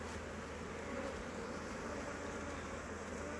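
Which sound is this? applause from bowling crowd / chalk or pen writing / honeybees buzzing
honeybees buzzing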